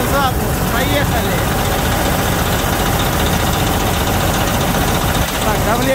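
A repaired International cab-over truck engine fires up for its first run, then runs loud and steady at close range for the whole stretch, with no break in its rumble.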